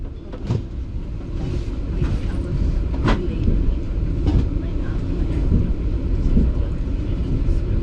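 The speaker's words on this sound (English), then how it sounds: "The train departed the Montreal Central Station roughly 5 minutes late" A VIA Rail passenger train pulls out of Montreal Central Station, a steady low rumble heard from inside with occasional clanks and thumps over the track, rising gradually in level.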